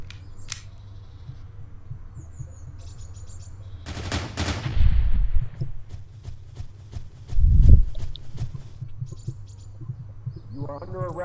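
Covering gunfire in the Intruder game, with scattered sharp shots and a few louder bursts mixed into background game noise, briefly joined by a voice.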